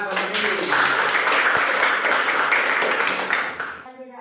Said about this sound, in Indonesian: Oke, tepuk tangan Pak Sofi.